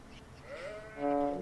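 Goats bleating in the video game Vintage Story, a single drawn-out nasal bleat that rises and wavers, fairly close and clear against a quiet backdrop.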